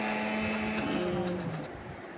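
A kitchen mixer grinder churns cream into butter for ghee, a steady whirring motor drone with a dropping pitch that eases toward the end, close and alone.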